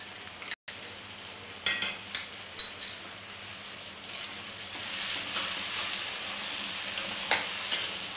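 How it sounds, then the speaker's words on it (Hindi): Tomatoes, chillies and garlic-ginger paste fry in a pan, with a steady soft sizzle and several sharp stirring scrapes and clatters. The sound is close but quiet, with no talking. "सारिया चीजा नूं आपां ने रोस्ट कर लेना चंगी तरह"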